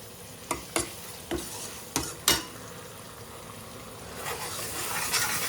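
Meat and spices fry in a pan, with several sharp stirring clicks and scrapes early on over a soft sizzle that grows slightly louder toward the end.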